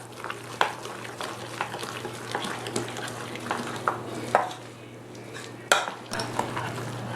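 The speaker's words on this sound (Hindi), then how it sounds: "और इन सबको अच्छी तरह से मिक्स कर लेंगे।" A spoon stirs rava idli batter mixed with Eno fruit salt in a bowl, giving soft, irregular scraping and tapping strokes over a low steady hum. The sound is quiet and close, with no talk.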